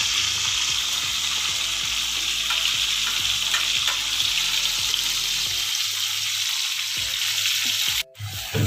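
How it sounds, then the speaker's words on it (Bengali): Chopped onion, garlic and cinnamon sizzle in hot oil as a tempering for a young jackfruit curry, a loud, continuous crackle with light stirring scrapes, briefly cut off near the end. "ফাইনালি এখন আমরা বাগারটা দিচ্ছি। বাগার দিয়ে কিছু সময় নাড়াতে হবে।"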